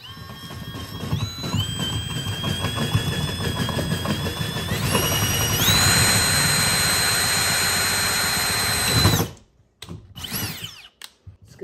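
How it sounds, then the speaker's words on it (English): A power drill whirs loudly and steadily as it bores a hole into a wall, its pitch rising in steps, then cuts off abruptly, followed by a few short, quieter bursts. "We're just gonna drill a hole right here"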